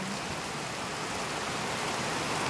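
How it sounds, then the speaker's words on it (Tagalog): Very heavy rain pouring down outside a house in a Philippine province, the yard flooding: a constant, dense hiss of downpour, loud and unbroken, with no voices over it. "Sobrang lakas talaga ng ulan"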